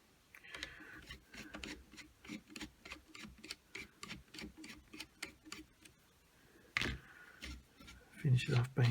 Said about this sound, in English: So we'll run that screw out.